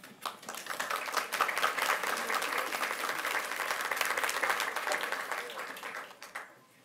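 Sustained audience applause at a school board meeting, steady clapping from a room full of people for about six seconds before tapering off.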